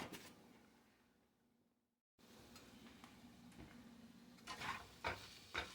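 Pre-cooked shrimp stirred in a hot pan for shrimp fried rice, a soft steady sizzle broken by a brief silence, then scraping stirs and a few sharper utensil clinks against the pan.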